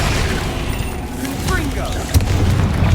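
Fiery Confringo blast spells in Hogwarts Legacy, a dense rumbling stream of booming game explosions with a sharper burst near the end, amid constant battle noise.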